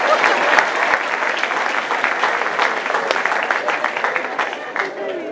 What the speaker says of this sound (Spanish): ¿Usted cree que puede darle un aplauso al Señor, por favor?